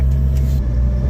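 A 1997 Jeep Cherokee XJ with a five-speed and 315,000 miles climbs a hill under light throttle, a loud, steady low engine drone filling the brief moment without talk.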